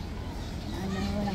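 A goat bleats in a drawn-out cry near the end, over a busy outdoor animal park background with faint voices.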